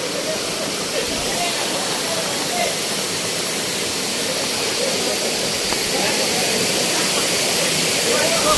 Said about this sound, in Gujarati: આગળ સામે પાણી વહી રહ્યું છે.